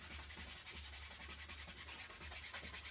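Paint being scrubbed onto a surface with a brush, a steady, fairly quiet rough rubbing with a soft repeated rhythm of strokes, heard alone without talk.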